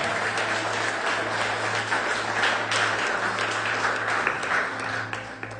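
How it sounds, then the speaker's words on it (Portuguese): A church congregation applauds during an evening worship service, producing dense, continuous clapping at a steady level for several seconds. "Você pode dar um aplauso a Ele nessa noite?"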